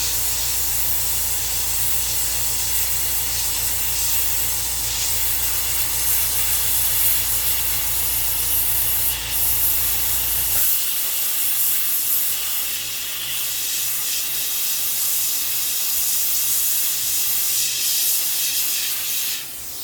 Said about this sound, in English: got my homemade welding rod here, and we're going to melt some of that into place here.